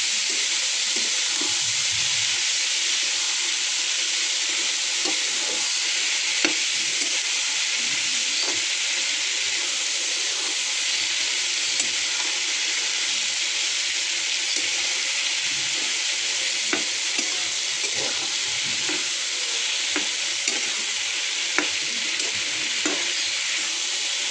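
Cluster beans sautéing in a pan, with a continuous bright, hissing sizzle and light clicks of stirring throughout. No one speaks.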